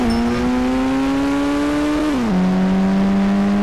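A motorbike engine in the India Bikes Driving 3D mobile game drones with a loud, steady revving tone that climbs gradually, then drops in pitch as it shifts down and holds again, with no talk.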